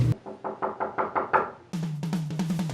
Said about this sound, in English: there was a sudden knock at my door